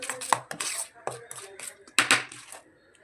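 Spoon stirring a creamy homemade atta biscuit mixture in a bowl, a series of scraping clinks and soft wet swishes in an irregular rhythm, close and fairly faint.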